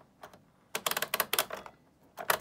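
A punchcard feeds into a Brother metal-bed knitting machine as a dial is turned, giving a quick run of sharp clicking, ratcheting bursts that start and stop with short pauses, close by and with no talking.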